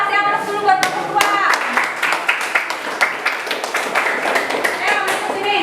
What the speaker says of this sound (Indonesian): Kasih aplaus dulu buat kelompok 2.